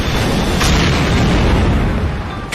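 An anime fireball spell bursts into a loud, sustained roaring explosion, a dense rumbling blast that fills the whole moment at close range with no voices over it.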